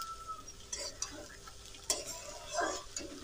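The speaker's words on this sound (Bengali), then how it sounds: "এবার কিন্তু বারবার নাড়াচাড়া করে নিতে হবে।" Tomato chutney being stirred in a pan while it cooks down, heard as a soft scrape and low sizzle. A few short scraping strokes and clinks land unevenly and sit close by, with no talk over them.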